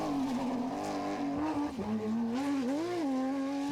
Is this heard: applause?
no